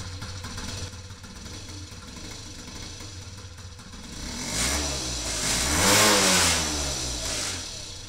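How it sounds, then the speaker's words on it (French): A Peugeot Tracker moped engine running after a carburetor cleaning, idling with a low, steady putter that swells into a few louder revs near the end, close by with no talk. "Le ralenti est peut-être un peu bas quand même."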